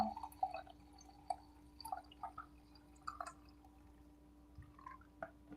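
Coffee poured into a Scooby-Doo mug, heard as faint, scattered drips and light splashes in a quiet room, spread unevenly across the moment.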